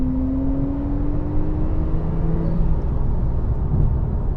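A Porsche 991 Turbo S with PDK gearbox pulls hard from a standstill, its steady engine drone rising slowly in pitch under heavy road and wind rumble, loud and continuous with no talking.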